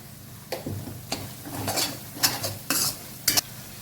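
Mint leaves frying in a pan for fish gravy, heard as a soft sizzle with several sharp scrapes and clinks of a spoon stirring against the pan.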